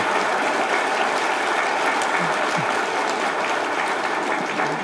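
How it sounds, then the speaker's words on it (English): A luncheon audience at an American chamber of commerce event applauds the prime minister's speech with a sustained, even patter of many hands clapping, continuous and moderately loud for several seconds. "I thought I deserve an applause for that."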